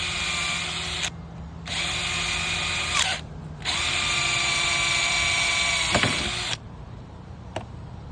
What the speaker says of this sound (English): I'm only going to drill just a few holes here